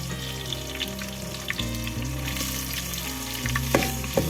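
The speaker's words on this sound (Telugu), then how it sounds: "కొంచెం బ్రౌన్ కలర్లో వచ్చే ఆనియన్స్ అయితే వేసుకున్నాను" Onions fry in a pan for Andhra village-style fish curry, a steady sizzle running throughout with occasional soft scrapes and clinks as they are stirred, close and moderately loud, no voices.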